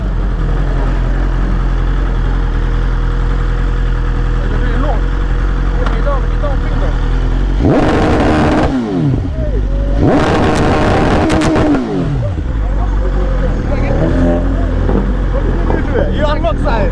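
Ducati Panigale V4S or Stage 3 Kawasaki Ninja H2 sport bike revved hard in neutral in two loud bursts of rising and falling engine howl over a steady idle rumble, with people talking nearby.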